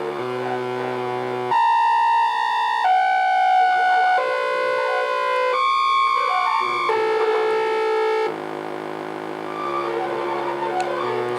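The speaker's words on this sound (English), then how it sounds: "Hear that little flutter as it ramps up." Kaseta tape delay eurorack module, a ZLOSynth Instruments kit, ramping its speed so a synth tone shifts through stepped pitches with a wavering flutter, loud and sustained, no talking over it.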